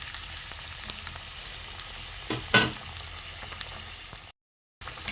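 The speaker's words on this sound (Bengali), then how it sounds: "কড়া করে ভাজবো লাল করে" Cauliflower and potato stuffed semolina fritters deep-frying in hot oil until crisp and red, a steady close sizzle and bubbling with a brief louder crackle midway, no voices.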